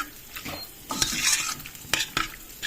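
A few scraping clinks of a utensil stirring in a pot, with soft sizzling underneath and no talking.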